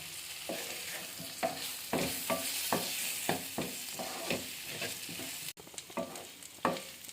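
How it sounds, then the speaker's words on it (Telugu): Potatoes and peas stirred in hot oil in a pan, with a soft continuous sizzle and repeated scraping strokes of a spoon at a steady rhythm, close and fairly quiet. "ఇప్పుడు బఠానీ, ఆలుగడ్డ అన్నీ వేసి కూడా మళ్ళీ కలియబెడతాము."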